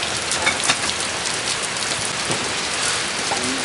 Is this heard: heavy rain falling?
yes